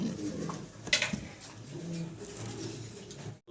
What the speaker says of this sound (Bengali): ক্রিম বার ড্যানিশ কবুতর, একসাথে 3 পিস দাঁড়ায় আছে দেখতেই পারতেছেন